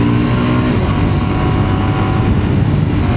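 A KTM 990 Duke 2026 motorcycle engine roars in a loud, sustained rev, holding a dense, steady growl throughout with no voices over it.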